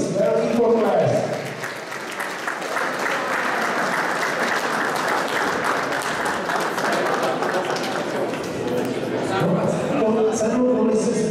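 Loud, sustained applause from a large audience at an awards gala evening in Humpolec, steady for about eleven seconds, with a voice briefly audible at the start and end.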